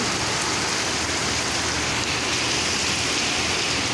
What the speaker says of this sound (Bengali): প্রচুর বৃষ্টি হচ্ছে ঢাকাতে